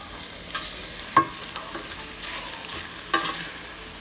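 Ground turkey picadillo with carrot frying in a pan, a soft steady sizzle broken by a few sharp scrapes and clinks as a utensil stirs it, close up.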